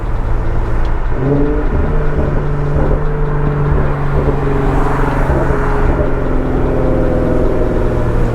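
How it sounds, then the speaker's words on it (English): A tuned Infiniti Q50 rumbles loudly from inside the cabin as it downshifts, with engine tones stepping up and down and faint exhaust pops scattered through the steady drone. "If I just lightly tap on the gas, you get little pops on the exhaust, little natural pops on the exhaust."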